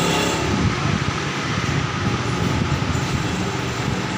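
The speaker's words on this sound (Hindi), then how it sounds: "इसको आपको स्टार्ट करके भी दिखाएंगे, इसके इंजन का साउंड।" A 2018 Honda CG 125 motorcycle engine runs steadily with a loud, dense low rumble and constant mechanical roar, close by and without any talk.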